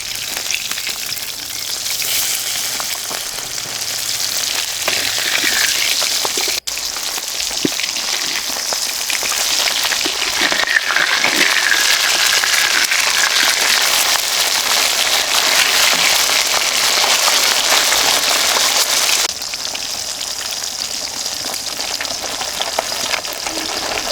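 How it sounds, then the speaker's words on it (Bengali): Pabda fish fries in hot oil with a loud, continuous close-up sizzle and crackle that holds steady for over twenty seconds, easing slightly near the end, with a single sharp tap partway through. "এই মাছ বেশি কড়া করে ভাজবো না"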